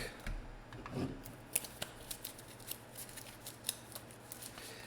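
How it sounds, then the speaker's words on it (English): A deck of Marvel Legendary villain cards being shuffled at a tabletop game, giving a soft papery riffle with several short crisp snaps and flicks over about five seconds, close and fairly quiet, with no talking. "Let's shuffle the villain deck."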